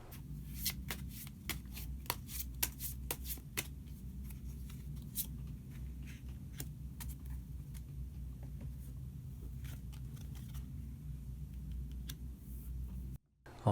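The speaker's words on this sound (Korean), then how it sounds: "마지막으로 히든 카드 한 장 더 뽑아보도록 하겠습니다" A deck of tarot cards is shuffled up close in quick, crisp riffling bursts, followed by softer slides and clicks as cards are drawn, with no talking over it.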